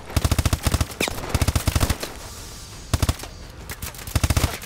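Automatic weapon fire in Call of Duty: Advanced Warfare: several rapid, loud bursts of machine-gun shots separated by short pauses, with quieter game ambience between volleys.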